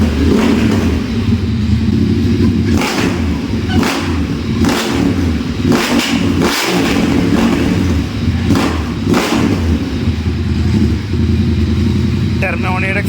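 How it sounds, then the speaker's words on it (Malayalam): A motorcycle engine with a Termignoni exhaust revs loudly and close by, with a sustained roar broken by repeated sharp throttle blips, under a noisy crowd at a tyre shop opening where people talk throughout. "പുള്ളിയുടെ എക്സോസ്റ്റ് നോട്ട് ഓണാക്കി."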